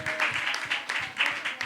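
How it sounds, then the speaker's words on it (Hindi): A church congregation claps together during a sermon, a short burst of close, uneven hand claps in quick rhythm with some voices mixed in. "ताली बजाइए"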